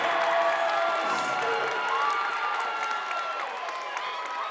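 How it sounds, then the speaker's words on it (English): Basketball crowd at a boys' high school senior night game cheering, whooping and applauding loudly after an and-one basket, a continuous roar that holds steady throughout with a commentator's voice over it. "Well, the crowd finally woke up."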